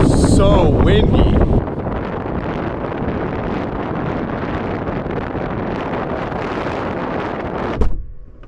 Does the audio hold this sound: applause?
no